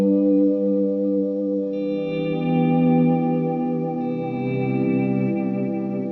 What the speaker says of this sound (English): So without the Echo Park, this swell would sound like this.